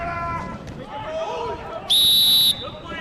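A referee's whistle blasts once, loud and sharp, for about half a second during an amateur adult ice hockey playoff game, rising over crowd murmur and rink noise while a commentator talks.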